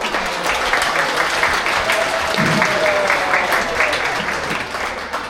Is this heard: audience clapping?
yes